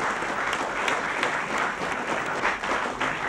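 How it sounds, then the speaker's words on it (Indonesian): An audience claps for a family called onto the stage at a lively Indonesian show, with dense, loud applause running steadily from start to finish and no speech over it. "kita berikan tepuk tangan untuk keluarga"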